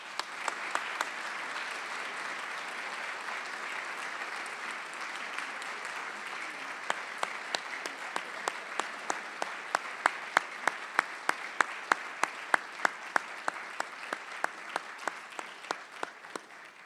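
Sustained audience applause at an alumni medallion ceremony, steady and moderately distant, a broad crowd of clapping hands with some sharper individual claps popping out, continuing evenly for the whole stretch.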